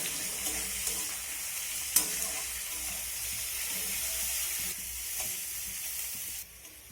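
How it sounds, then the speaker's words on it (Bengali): Chopped onions fry in a pan for chicken curry, a close, steady crackling sizzle with occasional scrapes and taps of a stirring spoon, easing off slightly at the end. "পেঁয়াজটাকে নেড়ে চেড়ে একটু হালকা করে ভেজে নেব"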